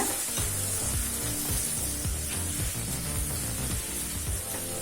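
Three large tomatoes frying in hot oil with softened onions for tomato rice, a dense, steady sizzle throughout with soft clinks and scrapes of stirring underneath.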